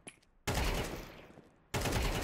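Rapid automatic gunfire in a first-person shooter game, with a short blip followed by two long, loud, dense bursts separated by a brief gap. No voices are heard.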